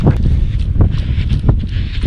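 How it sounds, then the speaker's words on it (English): Heavy low rumbling buffeting of wind across a microphone while running, steady throughout, with faint thumps like footsteps underneath. "It's very windy, certainly when you're moving"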